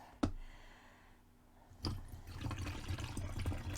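Water pours through a funnel into a bottle during a tumbler-cleaning mix, with a sharp clack at the start, a quieter pause, then a steady rushing splash that builds and continues.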